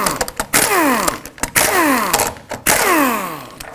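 A 19 mm socket on a power tool spins off plastic hubcap nuts on a Pontiac G6 in three loud, close whirring bursts, each rising and falling in pitch, with short pauses between them.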